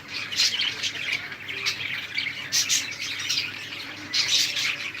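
Pet birds, including a pair of king birds and budgerigars, squawk and chirp repeatedly in harsh, bright bursts, fairly close and loud, with a steady background of chattering throughout.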